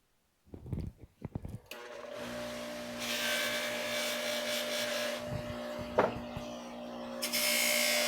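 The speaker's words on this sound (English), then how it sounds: "I'm going to take it out now outside with the palm sander, put some 80 grit on it, sand it, smooth it down." A palm sander fitted with 80-grit paper works a wooden board: a few handling knocks and clatters, then a steady, fairly quiet whirring drone that persists to the end.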